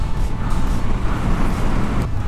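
Steady, loud wind-buffeted engine drone from a Hyosung GV650 motorcycle being ridden on the road, a continuous low rumble with rushing air and no talk.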